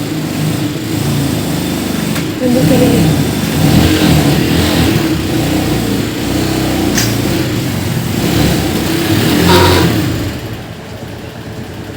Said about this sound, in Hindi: तो साहब भी गाड़ी लेके आ गए हैं।